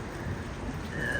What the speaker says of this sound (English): A little bit of rain now, but my goodness gracious, it smells great.